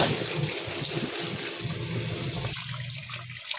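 Water sloshes and swirls continuously close by as mustard greens are rubbed and squeezed in a container, the rushing quieting slightly toward the end.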